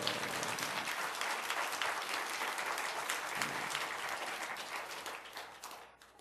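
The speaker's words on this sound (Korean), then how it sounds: "우리 주님께 영광의 박수 올립니다" Sustained applause from a large church congregation at an Easter Sunday service fills the space, steady and dense for several seconds before tapering off at the end.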